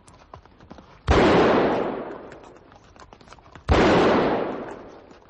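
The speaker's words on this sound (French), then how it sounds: "Tire dans le ton de ce noyer et double exactement ta balle sur le même point." Two pistol shots fired into the trunk of a walnut tree, each a loud sudden blast with a long rolling decay. They come about two and a half seconds apart over a quiet outdoor background.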